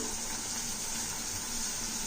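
Water poured into a pressure cooker of chopped vegetables for a multi-vegetable curry, a faint, steady splashing stream lasting a couple of seconds.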